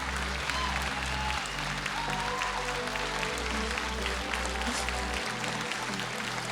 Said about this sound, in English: Give it up for Little Alpha Pop!